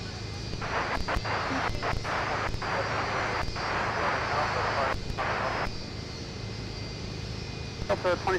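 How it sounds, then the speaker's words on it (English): An Airbus A220 jet arriving from Houston Intercontinental rolls out on runway 12 right at Minneapolis airport, a steady broadband engine roar that rises and dips, with a voice talking over it. "our next arrival that came in on runway 12 right. From Houston Intercontinental with the beautiful A220"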